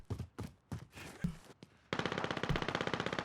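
Gunfire in the video game Call of Duty Warzone: a few spaced single shots ring out first, then a loud, rapid automatic burst keeps hammering steadily to the end.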